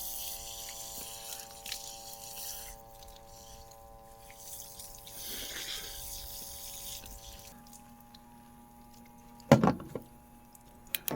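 Water from a portable camping shower runs steadily while someone rinses off outdoors by a river, a continuous splashing with a few louder spatters near the end.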